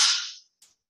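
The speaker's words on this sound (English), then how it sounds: "whip crack." A stock whip crack: one sharp, loud snap that rings out and fades within half a second, followed by a small, faint second snap.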